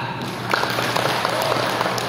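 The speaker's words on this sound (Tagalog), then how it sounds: "Palakpakan na ito." Audience applause at an overseas Filipino workers' family day gathering of a hometown association from Tapaz, Capiz, a soft, distant, steady patter of many hands clapping at a low level.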